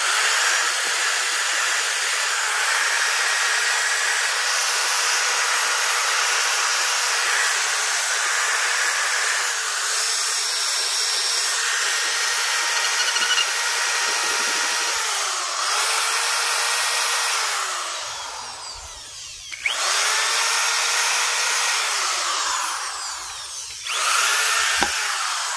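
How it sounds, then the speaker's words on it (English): Drill-driven wire brush wheel scouring rust off a chrome car wheel, a loud continuous whirring hiss that holds steady for most of the run, briefly dips and cuts out near the end, then spins back up. "look how that just wire brushed it completely"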